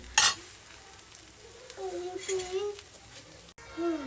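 A paneer paratha fries in ghee on a pan, a soft, steady sizzle beneath scraping and clinking of a utensil, with a sharp clatter at the start and a brief break near the end.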